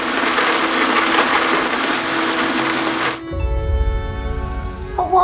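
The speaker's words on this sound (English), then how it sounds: "Activating blender." Kitchen blender running loudly with a dense whirring motor roar for about three seconds, then cutting off abruptly to give way to music.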